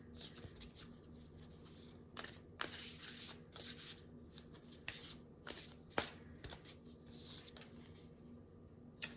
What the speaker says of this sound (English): We're going to pull some cards to see what else comes through.